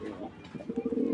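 Pigeons cooing at a Bangladeshi pigeon farm, a rhythmic series of soft low coos that grows steadier and louder toward the end, close by.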